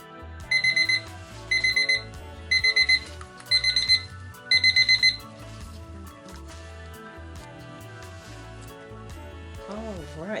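A kitchen timer set for five minutes beeps in five quick bursts of high repeated tones, loud and regular, over continuous background music, then falls silent while the music plays on.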